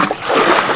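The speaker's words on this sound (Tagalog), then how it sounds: "Papalupaluan natin ng yan, sagwan na pangpalo natin mga kani." A wooden boat paddle slaps the water to drive crabs, giving a short, close, loud splashing burst.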